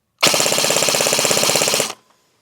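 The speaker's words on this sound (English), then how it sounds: "Okay, this is the MK3 full auto. Okay, 2-second burst, here we go." A Krytac MK3 airsoft rifle fires a full-auto burst of about two seconds, a loud, rapid, even stream of shots that stops abruptly, with no voices.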